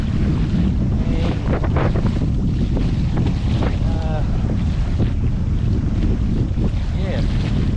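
Old Town Sportsman 132PDL pedal kayak pushing through rough, windy water, with loud wind buffeting the microphone, waves slapping and splashing against the hull continuously, and faint voice fragments in the wind.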